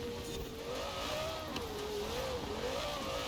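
A V10 racing car engine in a racing video game drones steadily, its pitch wavering up and down as it revs, a thin, synthetic-sounding tone at moderate volume.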